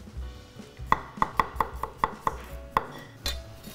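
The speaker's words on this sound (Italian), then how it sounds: "E vado ad affettare dell'aglio e" Garlic and chili pepper are sliced with a knife on a board, giving a quick run of about eight crisp, close taps in a quiet kitchen.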